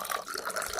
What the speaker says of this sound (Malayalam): ഗ്ലാസ്സിൽ ഒഴിച്ച് കാണിക്കാം